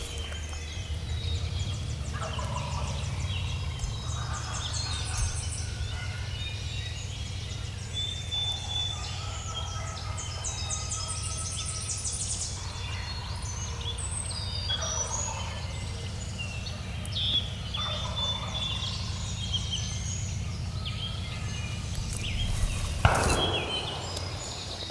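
Wild turkey gobblers on Wisconsin public land gobbling from not far off in spring woods, several gobbles rising over a constant low rumble and birdsong, with a sharp knock near the end.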